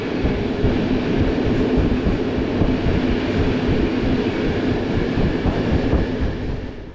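A CFR Romanian sleeper train pulls into Ploiești Vest station, steady loud rumble of wheels and carriages rolling on rails throughout, with no speech.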